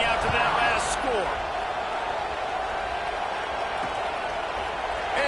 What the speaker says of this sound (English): They're ready to kick it away, and this crowd is buzzing after that last score.